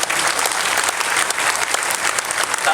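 A large audience claps together at a spiritual discourse, a continuous and fairly loud wash of many hands, steady throughout with no voices on top.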